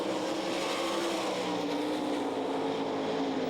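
Sprint race cars roar around a dirt track at the Knoxville Nationals. Their engines blend into a continuous high-pitched, droning wall of sound, loud and sustained, with no break.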